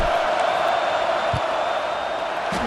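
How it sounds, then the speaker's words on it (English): A large stadium crowd at a Notre Dame vs USC college football game roars as a field goal is attempted, a steady loud wash of noise with no let-up. "This crowd trying to do its part to get inside the kicker's head."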